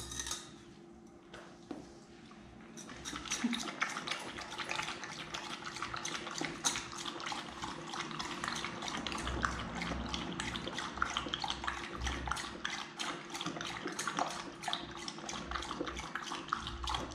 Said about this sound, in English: I'm going to give him some water if he wants.